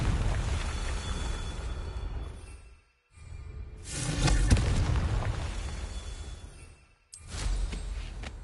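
Confringo fire spell explosions in Hogwarts Legacy: rumbling blasts and whooshes in two broad waves separated by short silences, fairly loud with a booming low end and no speech.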